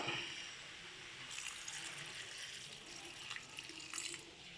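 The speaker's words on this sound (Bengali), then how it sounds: "এবারে দিয়ে দেবো আমরা পরিমাণ মতন জল।" Water pours into a pan of mixed vegetables, a close, steady splashing gush that starts softly and grows brighter, continuing for several seconds with small surges near the end.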